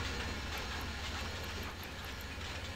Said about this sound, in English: The engine goes at the front of the train.